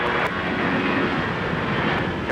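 Steady roar of an aircraft engine as a plane is cleared for takeoff at Minneapolis–St. Paul Airport, loud and continuous without any voices.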